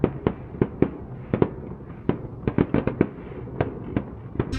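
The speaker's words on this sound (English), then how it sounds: "And that's where the fireworks happen every night." Fireworks popping and banging in an irregular series of sharp bursts, some close together, heard at a moderate distance with no voices, in Varkiza, Greece.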